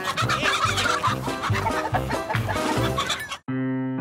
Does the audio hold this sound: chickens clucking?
yes